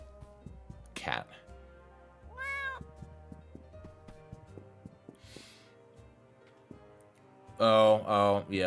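Cat meowing in the video game Escape From Ever After, a few short separate meows spread across quiet stretches with soft ticking, then a louder closing burst of sound.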